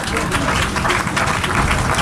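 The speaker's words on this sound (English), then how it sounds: "Clap yourselves." Children at a primary school rededication clap themselves in a steady, dense wash of applause from many small hands. It is close and fairly loud, with a murmur of voices mixed in.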